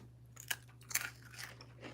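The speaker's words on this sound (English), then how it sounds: "You know how crunchy that is?" Close, crisp crunching on cheddar crackers in a home kitchen, a few sharp bites followed by softer chewing over a low steady hum.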